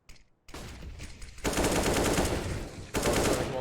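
Rapid automatic gunfire rattles in a match of the video game CS:GO, with one short burst and then longer sustained streams that stop and start again, loud and close.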